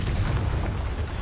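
A blasting-spell explosion in Hogwarts Legacy, a loud, dense, rumbling boom that fills the moment with sustained low-end roar and no talking.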